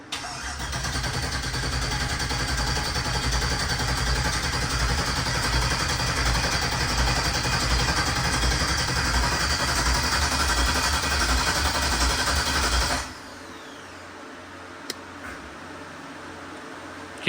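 An LS-swapped 4x4 Cadillac burnout car's engine cranks over on the starter for about thirteen seconds, a loud, steady rhythmic churning that never catches, then drops to a low hum with a single click.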